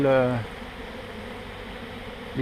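Honeybees fanning their wings at the entrance of a hive during swarming, a steady low faint buzzing drone that carries on after a brief close tone at the start.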